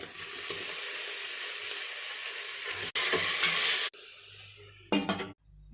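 Onion and chicken fry in hot oil with ginger-garlic paste and turmeric, a steady loud sizzle broken by stirring scrapes, then quieter pan clinks as the sizzle cuts off.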